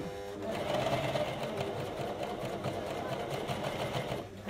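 Coverstitch sewing machine stitching bias binding, a fast, steady mechanical whir and rattle running close throughout, with a voice talking over it.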